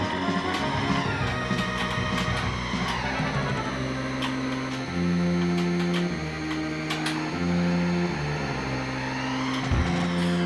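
Racing game sounds from F-Zero on the Super Nintendo play continuously, with a steady synthesized engine whine, changing tones and sharp effect blips over looping game music, no talk heard.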